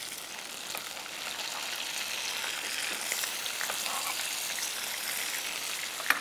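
Tomatoes and chopped ginger fry in a pan with a soft, steady sizzle and light crackle, heard close and alone with no talking.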